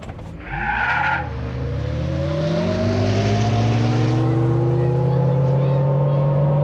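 A HUMMER EV launches in a night drag race against a modified Audi S4, giving a brief tire squeal at the start and then a strong rising electric whine that climbs steadily in pitch while the run continues.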